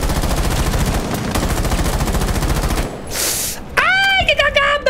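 Rapid automatic gunfire in Rainbow Six Siege, a loud, steady stream of closely spaced shots lasting several seconds, then a brief hiss and a ringing, tonal effect with a few more shots.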